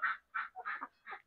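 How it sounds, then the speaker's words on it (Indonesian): Ducks kept at the back of a home garden give a short run of four or five nasal quacks in quick succession, heard clearly with no voices present. "tuh ada suara bunyi bebek tuh di belakang sana"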